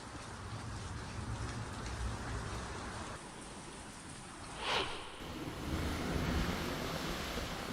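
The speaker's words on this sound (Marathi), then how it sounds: "होत असलेल्या मुसळधार अवकाळी पावसामुळे नागरिक त्रस्त झाले" Heavy unseasonal rain in Pune, a dense steady hiss of downpour with a gusting, surf-like roar, moderately distant and continuous, with a brief brighter splash midway.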